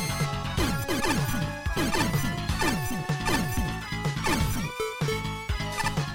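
Glass bubble cracking in a Mega Man fangame comes as a busy run of sharp crashes and thwacks, one after another, over chiptune-like game music, with no talking.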